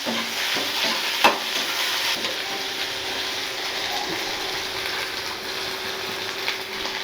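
Onions sautéing in hot oil in a pan for a paneer sandwich filling: continuous close sizzle and crackle with a stirring scrape and a sharp clink near the start.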